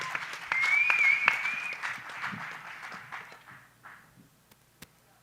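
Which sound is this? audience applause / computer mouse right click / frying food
audience applause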